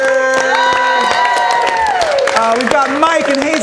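A theatre audience claps and cheers for the night's winner at a live show, sustained and loud, with whoops riding over music or a tonal sustained sound in the background.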